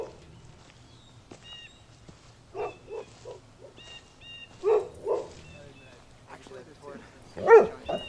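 A dog gives scattered barks and yips at moderate distance, irregularly spaced, with quiet voices and soft background noise between them.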